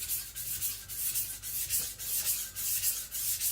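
IKEA Chinese cleaver being sharpened on a stone, a soft rhythmic rasping of steel strokes repeating about every half second, close and alone.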